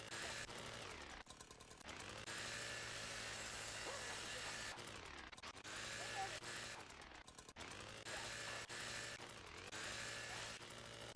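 A chainsaw in the VR shooter H3VR roars in repeated loud bursts with short gaps, its buzzing engine rising and cutting out several times.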